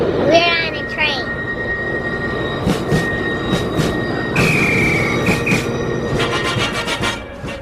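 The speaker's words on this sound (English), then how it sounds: "We're on a train." Train interior sounds recorded while riding aboard: steady rail rumble and clatter run throughout, with brief high wheel squeals and whistling tones, and faint background voices.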